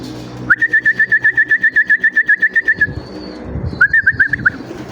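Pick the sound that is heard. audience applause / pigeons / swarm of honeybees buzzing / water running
pigeons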